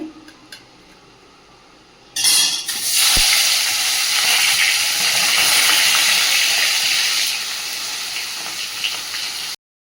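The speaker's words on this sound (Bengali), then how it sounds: "এদিকে তেলটা গরম হয়ে গেছে মাছগুলো ভেজে নেব" Fish dropped into hot oil for frying, setting off a sudden loud burst of sizzling that settles into a steady, close crackling hiss before cutting off abruptly.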